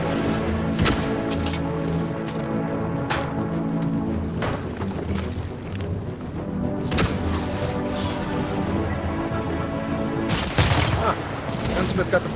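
Smart missiles fired by Iron Man in the video game Iron Man VR, a string of sharp launches and blasts over a steady droning hum, with a voice speaking during the action.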